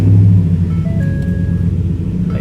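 A high-mileage Ford Raptor truck engine cranks and rumbles to life, holding a loud, steady low idle close by with a faint whine over it and no voices.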